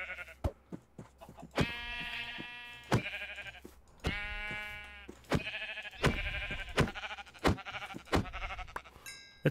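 Sheep bleating in a Minecraft modpack, several drawn-out wavering bleats with sharp clicks and thuds between them, fairly loud and close, no talk.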